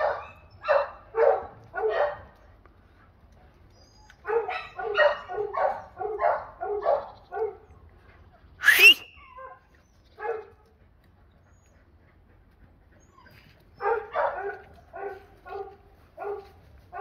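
Kleiner Münsterländer puppies bark in quick clustered bursts close by, broken by short pauses, with one sharp high yelp near the middle and a final flurry of yips.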